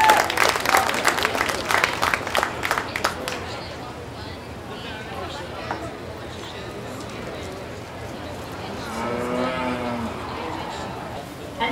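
Round of applause at a cattle show for a young exhibitor's reserve champion heifer, a few seconds of clapping from the ringside crowd that fades into the murmur of the arena, with voices talking underneath.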